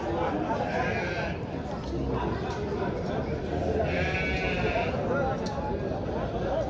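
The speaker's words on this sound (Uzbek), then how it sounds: "Qo'ylar turishini qarang, qo'chqorlar." Rams bleat loudly and repeatedly amid a busy crowd at a wholesale sheep market in Kokand, with people talking and chattering nearby throughout.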